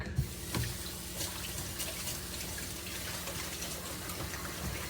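Tap water runs steadily into a kitchen sink while a pot lid is rinsed, with a soft continuous splash at close range, a few light clatters near the start, and no talking.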